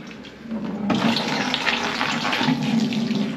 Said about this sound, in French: Il y a de l'eau qui sort